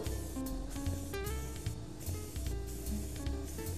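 Spray gun hisses steadily while laying a very light guide coat of color onto repaired, cracked leather, a continuous close airy spray with faint tonal whine underneath.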